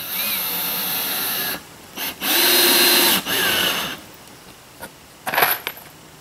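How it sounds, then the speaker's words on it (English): Power drill driving screws into a plywood kitchen floor in a tiny house under construction, with several loud sustained whirring runs broken by short stops, ending in a quick clattering burst. "right now I'm sitting in the kitchen, screwing down the kitchen floor."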